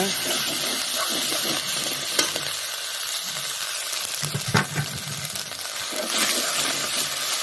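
Sautéed onions sizzle steadily in a pan for Tamil village-style egg curry while a spoon stirs through them, with a few louder scrapes and clinks against the pan.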